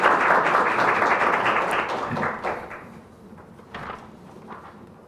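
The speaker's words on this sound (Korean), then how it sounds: "박수로 청해 주십시오" Audience applause at a Korean intellectual property policy forum, loud clapping at first that tapers off over a few seconds, leaving a few scattered claps near the end.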